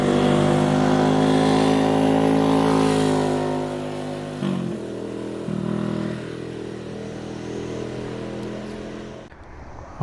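Motorcycles salvaged from a junkyard ride along the road, their engines droning loud and steady, pitch shifting with throttle changes and gear shifts, before the sound drops away near the end.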